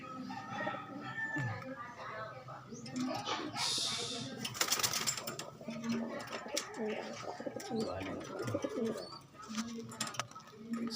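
Pigeons coo repeatedly near the listener in a soft, layered chorus, with a burst of fluttering or rustling partway through and faint background voices.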